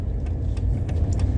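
Low, steady engine hum and road rumble heard from inside a moving car, continuous and moderately quiet with no talking.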